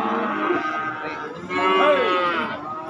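Cattle at a livestock market in Pati lowing, two long drawn-out moos in close succession, near and clear over a low murmur of background noise.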